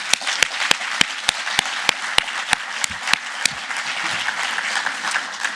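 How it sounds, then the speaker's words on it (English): An audience at a conference on age-friendly communities in the Nordic-Baltic region gives sustained applause, with dense clapping and a few sharp nearby claps standing out at a regular beat throughout. "we had 4 excellent examples who deserve another applause"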